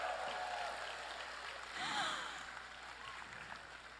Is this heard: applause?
yes